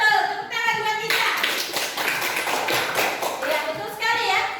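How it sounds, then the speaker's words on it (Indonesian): A classroom of students clapping for a classmate, a burst of quick overlapping handclaps between stretches of a teacher's voice at the start and end. "Betul, tepuk tangan buat Isa."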